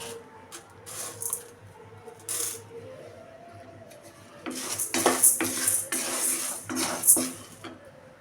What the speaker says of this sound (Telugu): మీడియం ఫ్లేమ్లో పెట్టుకొని ఇలా వేపుకోవాలి. ఒక 5 మినిట్స్ ఇలా వేయించుకుంటే చాలు.